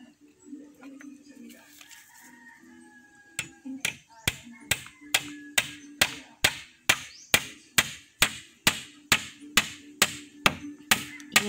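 Small nail hammered into wood with a hammer: after a quiet start with some talk, about fifteen sharp, evenly spaced taps ring out close and loud in a steady rhythm.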